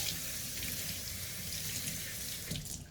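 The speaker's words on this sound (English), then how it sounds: "Now I'm rinsing this lettuce." Lettuce is rinsed under a running kitchen tap, a steady close hiss of flowing water with faint splashing against the leaves and no talking.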